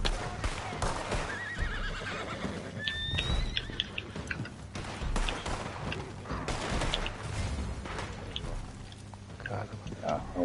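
Horse in Red Dead Redemption 2 whinnying as it stumbles and falls, a rising neigh cutting through busy game noise with hoof clatter and gunfire nearby, under steady talk.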